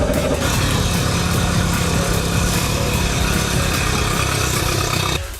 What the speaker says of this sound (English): Let's run our engine for about 5 minutes to warm it up.